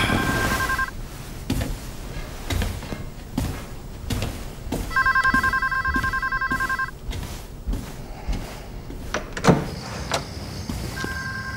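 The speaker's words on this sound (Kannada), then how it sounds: "ನಿನ್ ಫೋನ್ ರಿಂಗ್ ಆಗ್ತಿದೆ" A telephone rings in repeated electronic trills, pausing between bursts, over clattering and movement sounds nearby.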